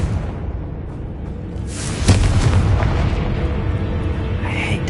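A Confringo fire spell explodes in Hogwarts Legacy with a single loud boom that rolls into a roaring burst and lingers over steady game ambience.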